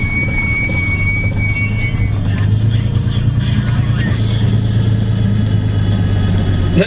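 A Ford Mustang engine idling nearby, a steady, loud, low rumble that holds evenly throughout.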